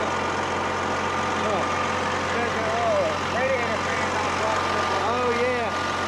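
A heavy equipment engine idles with a continuous low drone and faint whining tones riding on top, steady and close throughout.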